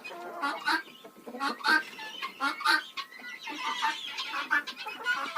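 Hens clucking inside a chicken coop that also houses guinea fowl, a steady run of close, busy clucks and murmurs from several birds overlapping throughout.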